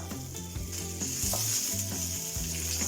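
Mustard seeds, urad dal and cumin sizzle and splutter in hot oil with a steady crackle and scattered small pops, close by, while music plays softly in the background.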